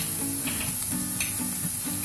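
Leftover roti frying in a pan with black pepper and red chilli powder, a steady close sizzle broken by repeated scraping stirs of the spatula, no voices.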